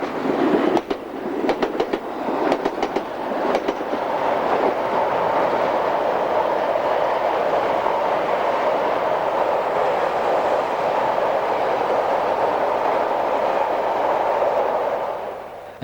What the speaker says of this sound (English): The 10:59 Ipswich to Crewe Freightliner heads through the disused Mainline platforms at Hatch End.